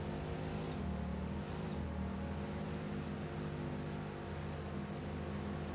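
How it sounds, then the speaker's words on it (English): A car engine in Satisfactory held at redline, a steady droning whine that stays constant and fairly quiet throughout with no talk over it. "Can you hear it redlining? It's like roo, roo, roo."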